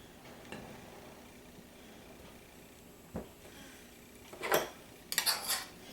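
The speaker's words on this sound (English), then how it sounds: "So I have the flour and the salt, and I'm going to start cutting the butter in." Butter is cut into flour and salt in a bowl for pie crust, giving a few sparse metallic clinks and scrapes of utensil on bowl, quiet at first and then a brighter cluster near the end.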